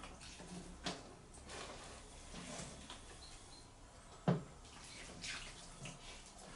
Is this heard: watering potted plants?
yes